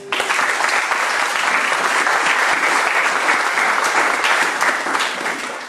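Church congregation applauding together during a French-language service, a steady dense wash of clapping that holds loud and even from start to finish with no talk over it.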